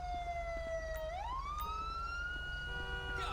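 A police car siren in the video game GTA 5 wails loudly in a single rising and falling sweep, then holds a steady tone, with no speech.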